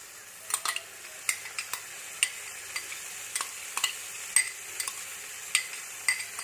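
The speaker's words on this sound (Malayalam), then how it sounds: "നല്ലതൊന്ന് ഇളക്കി കൊടുക്കാം." Tomato puree being stirred into a Dhaba-style chicken curry in a pan, with a faint steady sizzle under a series of sharp spoon clinks and scrapes at an irregular rhythm, close by and with no talk.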